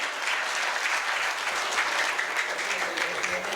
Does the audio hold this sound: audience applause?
yes